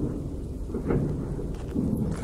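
A thunderstorm in the video game Witch Hunt brings a continuous, heavy rumble of thunder over steady pouring rain, loud and enveloping throughout.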